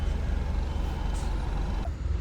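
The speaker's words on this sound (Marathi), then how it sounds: "आम्ही आता गाडी सोडायला घेतली" A loaded goods truck sets off on a hot day, its engine throbbing low and steady up close, with a brief hiss of released air near the end. No one speaks.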